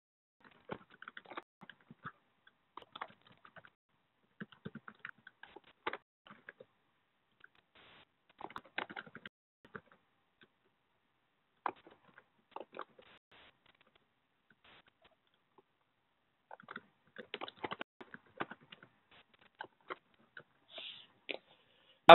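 Typing on a computer keyboard, soft scattered bursts of rapid key taps separated by silent pauses, close and faint, with no talk.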